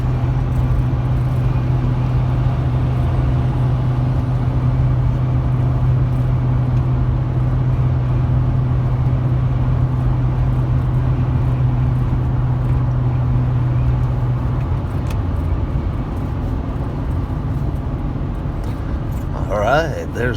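A 2008 Chevrolet 2500 HD pickup with a 6.0 V8 drives along a road, its engine and road noise forming a loud, steady low drone throughout, with a faint clatter near the end.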